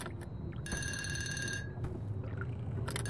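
A telephone rings in the horror game Unforgiving: A Northern Hymn, a bright electronic ring in repeating bursts over a low rumbling ambience, with no talk.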